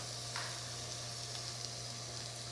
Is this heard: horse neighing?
no